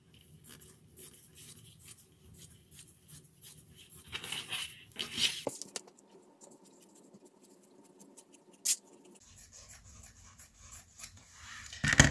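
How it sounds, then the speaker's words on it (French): Fabric for a child's kitchen apron is cut in quiet, scratchy snips and rubs nearby, with a louder burst of cutting midway and a couple of sharp clicks, no voices. "Je vais couper déjà ça."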